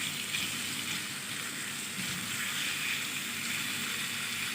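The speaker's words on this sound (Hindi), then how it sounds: "आप इसके छोटे छोटे क्यूब बना लें इस तरह और इसको फ्राई कर लें" Small chicken cubes fry in a pan, giving a steady, close hiss and crackle of sizzling oil with no pauses and no voices.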